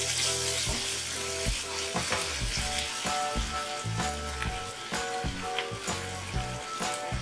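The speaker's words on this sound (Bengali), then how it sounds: "একটু ভালো করে নাড়াচাড়া করে নেব।" Coriander powder, red chilli powder and a little sugar are stirred and fried in oil in a pan, giving a continuous sizzle broken by repeated scraping and knocking of a spatula against the pan.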